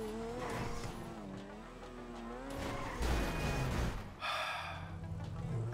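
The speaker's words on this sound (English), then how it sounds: "Oh wow, you don't see me driving here." A Turismo sports car driving in GTA 5 Online, a steady revving engine whose pitch rises and falls, with a brief tire screech and a sudden rush near the end.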